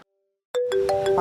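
A phone ringtone starts abruptly after a moment of silence, signalling an incoming call. It plays a bright, electronic melodic chime with clear tonal notes.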